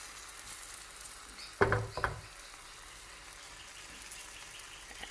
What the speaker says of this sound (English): Let it cook, and then we'll turn it